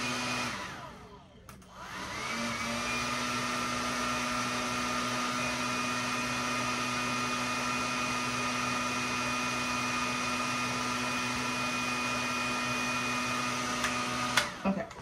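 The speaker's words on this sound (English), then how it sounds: "And then I'm gonna go back in with the blow dryer on low." A blow dryer set to low switches on after a brief fumble and runs with a steady, even whirring hum for over ten seconds before clicking off near the end.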